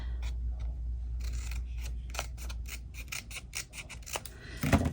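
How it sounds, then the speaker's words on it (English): Scissors snip through a sheet of paper in a quiet craft room, a run of short crisp cuts that quicken toward the end, close and moderately soft over a low steady hum. "cut a piece of paper that's the same"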